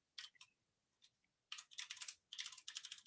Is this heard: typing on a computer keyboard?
yes